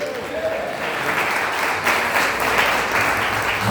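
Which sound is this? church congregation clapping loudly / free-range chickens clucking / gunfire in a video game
church congregation clapping loudly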